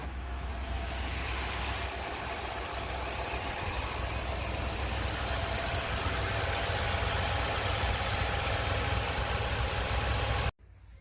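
A 2021 Ford F250 STX with the 7.3 Godzilla V8 idles with its stock exhaust, a steady, even rumble heard up close that cuts off abruptly near the end.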